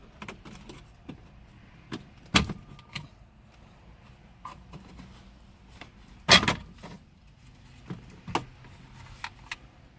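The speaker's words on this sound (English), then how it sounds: "We'll carefully pry up on the panel and start to unclip it from the vehicle." Someone pries and unclips a dash trim panel on a 2013-2014 Ford F-150, producing scattered plastic clicks and creaks, with two sharp, loud snaps of clips releasing in a quiet cab.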